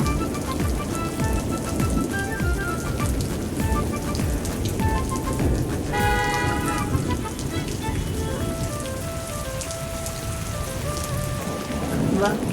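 Heavy rain pours down in a dense, steady patter on surfaces, loud and continuous, with faint tonal sounds and a murmur in the background.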